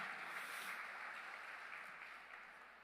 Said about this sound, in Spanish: Denle un fuerte aplauso.